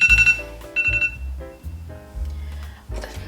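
An electronic kitchen timer rings in repeated bursts of bright beeping, loud and close, going off while dumplings are being prepared.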